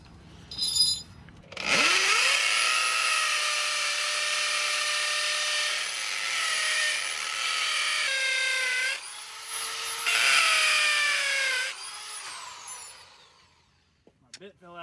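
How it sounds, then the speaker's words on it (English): A power drill bores into a cargo trailer being converted into a tiny home camper, its high whine running steadily for about ten seconds, shifting pitch a few times, then winding down, with a brief knock beforehand. "I'm going to drill this thing really quick"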